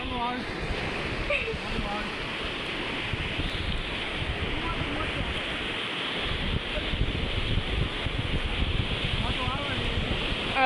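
Water waves splash and wash in near the shore, a continuous close rushing and surging that runs under people talking.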